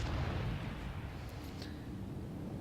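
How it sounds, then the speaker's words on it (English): Naval guns in a warship video game firing on an enemy Kongo battleship: a heavy, booming blast at the start that rolls into a long low rumble, loud and without speech. "Might as well open fire on the enemy Congo."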